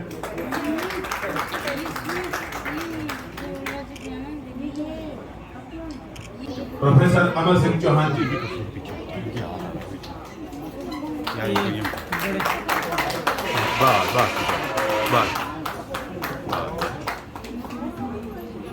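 Applause from the audience at a state-level media honours ceremony in Nahan, Sirmaur, swelling in two broad rounds beneath a man's continuous announcing over the PA.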